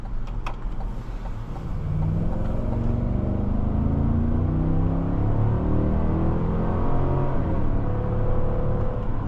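A 2025 Cadillac Escalade Sport Platinum engine revs and accelerates steadily, a smooth low drone rising in pitch over several seconds, heard from inside the cabin.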